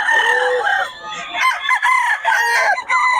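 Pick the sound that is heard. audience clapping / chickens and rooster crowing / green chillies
chickens and rooster crowing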